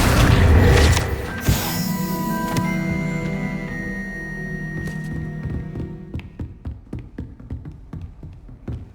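A Confringo fire spell blast in the wizarding game Hogwarts Legacy: a loud booming impact at the start, then a ringing, decaying tail and a string of lighter tapping knocks as debris settles.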